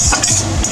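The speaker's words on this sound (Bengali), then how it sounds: "এবারে আমি এটা নাড়িয়ে দেব।" Cooked leafy greens with poppy seeds being stirred in a pan, a close scraping and shuffling of the spoon over a steady sizzle.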